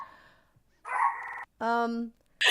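Small dogs let out a few sharp barks and yips in separate bursts, close by, with short silences between them.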